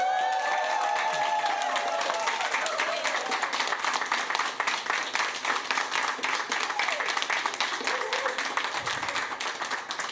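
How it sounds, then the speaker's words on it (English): A large audience claps continuously and fairly loudly for about ten seconds at a federal government announcement of a personal support worker tax credit, dense and even throughout, with a murmur of crowd noise underneath. "Now you hear that clapping"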